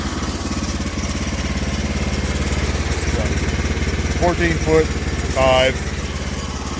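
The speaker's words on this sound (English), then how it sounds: "There's the sawmill warming up." A Woodland Mills sawmill's engine warms up at a steady idle, a low, even drone that runs throughout with a few brief higher sounds near the end, while a person talks over it.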